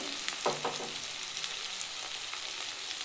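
Dry spices, ground cumin, chilli powder and turmeric, sautéing in oil in a pan for a bata fish curry, giving a steady, dense sizzle with a few soft stirring scrapes early on.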